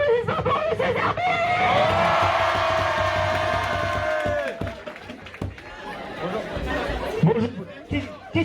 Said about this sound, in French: En tonnerre d'applaudissements pour Monsieur Zerbi.